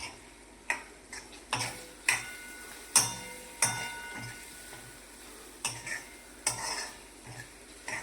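Capsicum curry with spices, coriander and cumin powder, being stirred in a pan: a spoon scrapes and clicks against the metal in irregular sharp taps, close and moderately quiet, with no talking.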